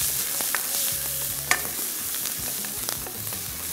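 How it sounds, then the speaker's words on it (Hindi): Plenty of chopped garlic and ginger frying in hot oil, a continuous close sizzle with scattered pops and light stirring scrapes, steady and unbroken, with no voices. "साथ में अदरक शामिल कर दी और इसको हम हल्का सा करेंगे फ्राई"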